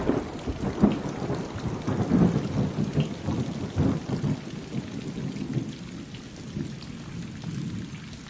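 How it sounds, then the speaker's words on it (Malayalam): Heavy rain pours steadily with rumbles of thunder rolling through, a continuous dense downpour that swells and eases slightly, no voices. "എന്തൊരു മഴയാണ്! ഇതിനൊരു അവസാനമില്ലേ?"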